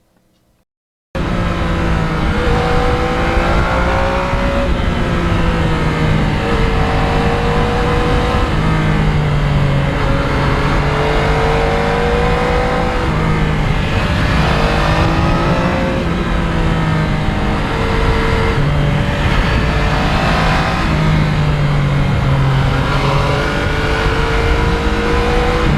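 A 2020 Yamaha MT-09 motorcycle with a polished exhaust being ridden, a loud, close engine note that rises and falls through repeated revving and gear changes for the whole stretch.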